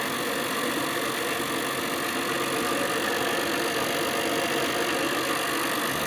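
An Adams motor generator runs in a continuous dense whir and rattle with a broad hiss and a steady mechanical drone, holding constant volume throughout at close range.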